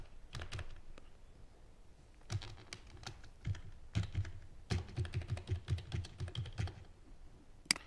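Someone types a password on a computer keyboard, with scattered single keystrokes first and then a quicker run of close, crisp clicks.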